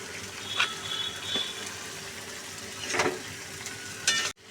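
Taro pieces and spices, with Kashmiri chilli powder, sautéed and stirred in a pan for a fish curry, giving a soft steady sizzle broken by a few louder scraping stirs, close and alone before a sudden cutoff.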